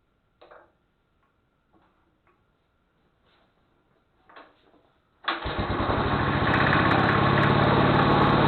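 A Gibson garden tractor engine with a freshly rebuilt magneto fires on the first pull and settles into a steady, loud idle, after a few faint clicks and rustles from the quiet setup.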